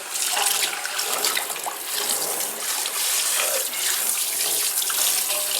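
Water running steadily from a sink tap while catfish are rinsed, a continuous loud splashing hiss with small fluctuations from the fish being handled under the stream.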